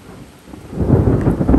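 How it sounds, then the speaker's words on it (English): Thunder from a cloud-to-ground lightning strike in a summer thunderstorm swells from quiet into a loud, deep rolling rumble over steady rain, with no voices. "We've got cloud to ground lightning."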